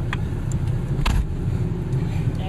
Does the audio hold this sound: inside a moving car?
yes